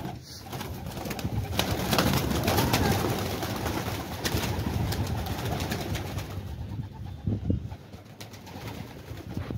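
Young pigeons are let out to fly, with soft repeated cooing and fluttering close by over a dense, continuous outdoor bed of bird calls and rustling.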